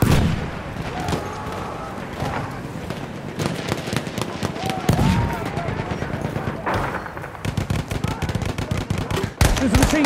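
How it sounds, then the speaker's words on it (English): Rapid machine gun bursts and booming explosions from a Battlefield 1 Conquest multiplayer battle, dense and continuous with sharp close volleys, while a voice talks over the din. "There's a machine gun."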